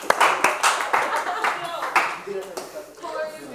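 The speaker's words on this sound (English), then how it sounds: "All right, let's clap our hands." A class claps for the volunteers in a series of sharp, uneven claps that swell and fade over a few seconds, with voices chattering and laughing underneath.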